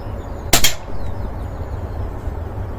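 A single sharp crack from an Umarex Iconix air pistol firing at a target, close and brief, followed by quiet room hum and low background rumble.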